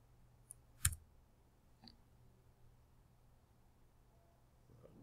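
A computer mouse gives a single sharp, close click in a quiet room, followed by a couple of fainter ticks against low background hum.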